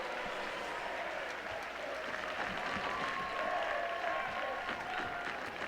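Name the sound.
applause from Sounders fans in stadium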